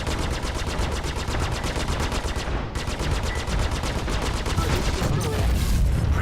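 Rapid, steady automatic fire from ship weapons in the space combat game Star Citizen, a loud unbroken stream of shots with one brief gap partway through, continuing to the end.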